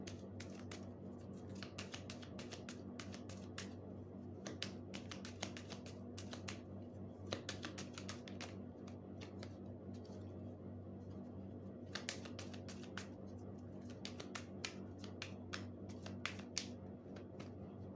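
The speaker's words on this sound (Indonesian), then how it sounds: "Kita shuffling kartunya." A deck of cards is shuffled in soft, quick clicking runs, faint and close, in two clusters separated by a quieter stretch.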